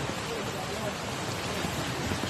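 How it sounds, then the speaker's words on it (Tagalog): Heavy rain from Typhoon Goring during flooding in Iloilo makes a dense, unbroken hiss that stays loud and steady throughout, with no other distinct sounds. "Ulan po yung malakas, hindi yung hangin."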